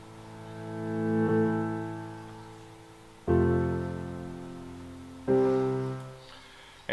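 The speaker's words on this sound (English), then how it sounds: "Reverse a cymbal, reverse a piano note." A reversed cymbal and a reversed piano chord play as transition effects in a corporate music track: three rising swells that each build and stop sharply. No voices are heard.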